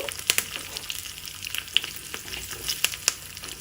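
Curry leaves crackle in a hot oil tempering for a tomato mint chutney, with sharp spitting pops scattered over a soft, steady sizzle, close up and without voices.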